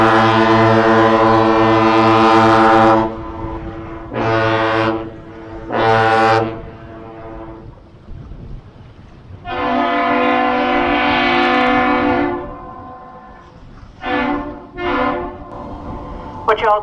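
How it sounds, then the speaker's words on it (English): The 680-foot lake freighter John J. Boland, built in 1973, gives a deep horn salute of one long blast and two short ones in the Duluth Ship Canal, and the bridge horn answers the same way, loud and reverberant. "The ship initiates the greeting with one long blast called by two short blasts, and the bridge responds with the same thing."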